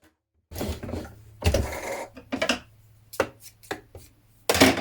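A sewing machine stitches a dress seam near a corner in several short runs with pauses between, its motor humming under rapid clattering needle strokes, close and fairly quiet.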